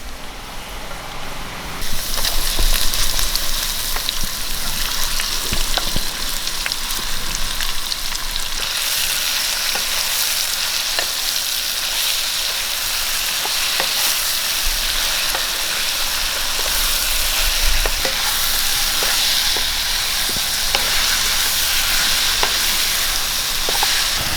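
Lime pieces frying in hot oil for a lime pickle, a steady broadband sizzle that swells louder after the first couple of seconds and holds, with occasional faint stirring clicks and pops.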